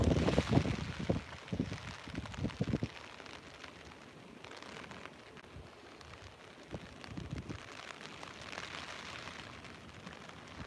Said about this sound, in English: There's some rain and snow coming down.